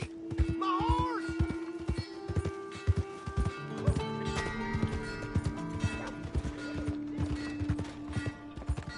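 Rapid rhythmic hoofbeats of a galloping horse in Red Dead Redemption 2, with clattering, mechanical game-like effects and a brief whinny, continuing steadily throughout.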